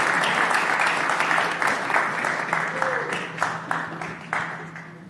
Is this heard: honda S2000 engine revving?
no